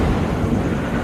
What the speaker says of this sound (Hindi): अंधेरी रात में कड़कड़ाती बिजली के साथ तेज तूफानी बारिश हो रही थी।